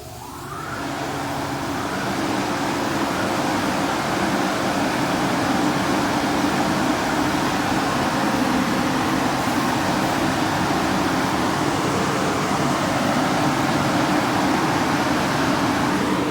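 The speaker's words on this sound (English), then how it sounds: "So dryer's gonna come on in a second." Car wash dryer blowers at a 66 Suds automatic car wash in Greensburg, Pennsylvania, roar steadily and loudly in a broad, continuous rush of air after spinning up at the start, with no talk over them.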